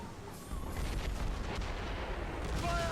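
Ship cannons fire in Assassin's Creed Rogue during a naval battle, a sustained rumbling barrage of booms rolling over a constant roar of wind and sea, dense and continuous rather than single shots.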